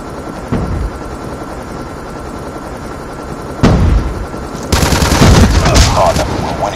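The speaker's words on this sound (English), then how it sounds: "Hostile stealth chopper inbound." In Call of Duty Mobile, a hostile stealth helicopter approaches with a low, steady rotor rumble beneath loud bursts of automatic gunfire and scattered shots.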